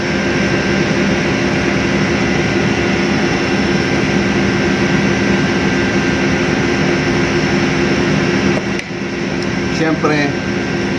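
Ship engine running aboard a cargo vessel being shifted from an STS area to anchorage, a loud, steady low drone and hum that continues unbroken, with a brief dip near the end.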